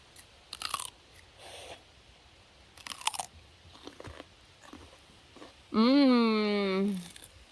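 Fresh home-grown celery stalks bitten and chewed close up, with several loud crisp crunches spread over a few seconds, followed by a drawn-out voiced hum of approval.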